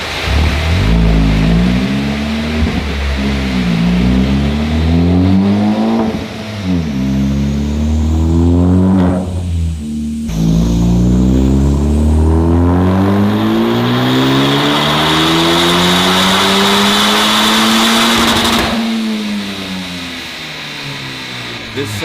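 Honda Civic Type R FK2 engine on a dyno, revving loud and close through repeated climbs and drops in pitch, then a long sustained pull with a high whine before easing off.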